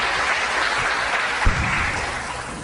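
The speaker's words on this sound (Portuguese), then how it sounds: "Aplauda Jesus." A church congregation breaks into steady applause and cheering, a dense, continuous wash of clapping at moderate volume with a brief thump midway through.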